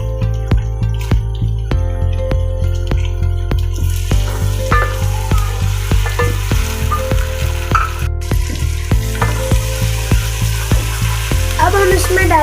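Tomatoes go into a hot pan for a home-style matar chicken, bringing a steady, loud sizzle with a dense hum of frying throughout, broken by regular sharp clicks and scrapes of a utensil against the pan.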